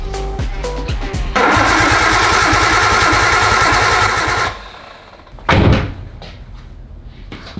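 Nissan Skyline engine cranking with rapid rhythmic starter pulses, then roaring loudly into a brief run before cutting out, followed by a sharp burst and scattered knocks.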